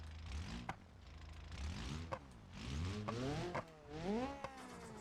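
Drag car engine with its exhaust removed, revving in repeated sharp bursts that climb and fall, four or five close, loud rises separated by rough idle.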